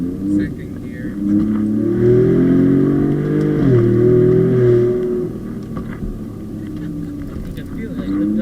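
A Ford Raptor pickup truck accelerates hard in second gear, its deep engine rising in pitch over several seconds, shifting, then climbing again, heard from inside the cab with people talking over it.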